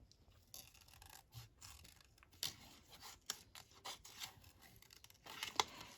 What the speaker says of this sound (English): And let's just cut this butterfly out.